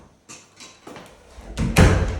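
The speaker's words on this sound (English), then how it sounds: "The door closes fine." A white bathroom door swinging shut with soft scuffs building to a firm closing thud, close by and without talk.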